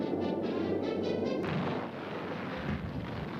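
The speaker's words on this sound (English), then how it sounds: "Allied battleships and destroyers begin a 4-day bombardment." Allied battleships and destroyers carry out a WWII naval bombardment in the Pacific, a dense, rumbling barrage of distant booms merging into a continuous roar, with a heavier thud near the middle.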